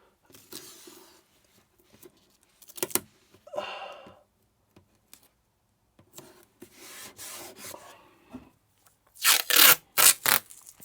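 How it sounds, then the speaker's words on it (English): An oscillating multi-tool fitted with a wood-cutting blade chops out unwanted material during an AIS and VHF install on a boat: scattered scraping and rubbing, then a few loud, short rasping bursts close by near the end. "then I can get in with my oscillating tool with a wood cutting bit and chop out the bit I don't need"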